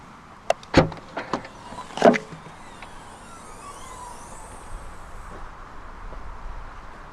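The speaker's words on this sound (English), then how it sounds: "To open up the Polo's rear hatch, go towards the rear hatch itself and use the VW badge." The rear hatch of a 2014 Volkswagen Polo 1.0 five-door is opened with its VW badge: a few sharp clicks and a latch clunk sound up close, then quiet as the hatch lifts.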